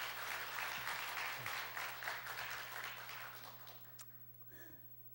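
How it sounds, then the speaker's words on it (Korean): Audience applause at a church gathering greets a university president stepping up to speak, a dense steady clapping that holds for several seconds and then fades away to near silence. "우리 총장님 나오실 때 우리 박수로 환영하겠습니다."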